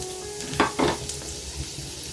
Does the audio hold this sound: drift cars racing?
no